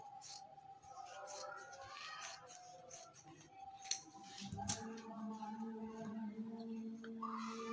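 Fabric scissors snip through sharara cloth during a garment cutting session, a run of soft, close crisp cuts and blade clicks over a quiet room, with some faint background noise.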